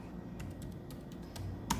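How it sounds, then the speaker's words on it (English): Keys clacking on a computer keyboard while entering a command-line instruction for motor mapping, a short run of close taps ending in a firmer keystroke, with no talk. "now we're going to type"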